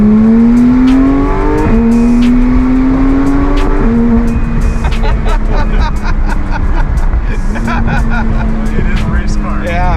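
A Porsche 991 GT3 driving hard, its engine note climbing through repeated upshifts with loud rising revs and brief drops between gears, recorded close from inside, with voices faintly underneath.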